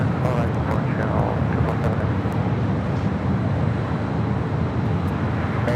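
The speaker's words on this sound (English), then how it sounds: "Cargo King touching down there on the south side" A cargo plane touches down on the south side runways at Los Angeles LAX airport, a loud, continuous engine roar and rumble spread evenly through the whole stretch.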